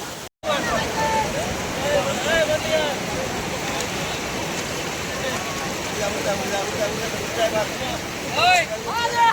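Rushing river current rolls past in a steady, loud wash of water, with wind buffeting the microphone and brief tonal voices or calls rising over the flow.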